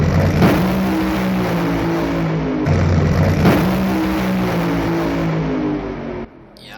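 Drag racing cars at an NHRA National event at St Louis dragway launch off the line with a loud, harsh roar, two bursts of revving engine noise building and sustaining before cutting away abruptly near the end.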